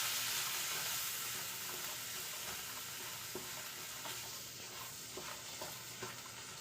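Boiled chickpeas mixed in a pan with their cooking water, giving a dense, even hiss of frying with faint, scattered stirring scrapes beneath it.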